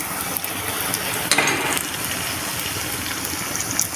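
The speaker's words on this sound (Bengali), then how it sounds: "দেখো তেলেতে ছাড়তেছি, ফুলকো ফুলকো হয়ে যাচ্ছে।" Food frying and puffing up in hot oil, a steady close sizzle and bubbling with brief louder splashes as pieces go in, no one talking.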